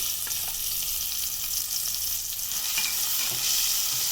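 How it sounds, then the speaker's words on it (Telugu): Masala paste frying in oil in a pan for Mughlai chicken, a steady close hiss and sizzle throughout with occasional soft scrapes of stirring, no voices. "ఆయిల్లో బాగా ఫ్రై చేయాలండి ఆయిల్ పైకి వచ్చే వరకు బాగా ఫ్రై చేసుకోవాలి"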